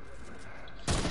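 Sniper rifle shot in an online shooter video game, one sharp loud blast cutting in abruptly at the very end after a brief stretch of background game noise.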